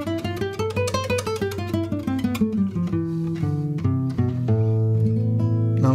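A musical instrument plays a minor scale, then a harmonic minor scale, as clear sustained notes stepping one after another, loud and alone with no talk.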